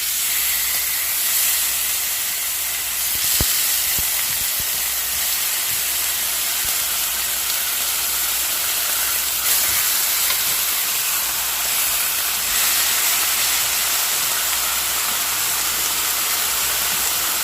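Marinated steaks for street tacos sizzle on a hot grill pan over high heat, giving a loud, steady, bright hiss with faint crackles and a brief clack, and no talk.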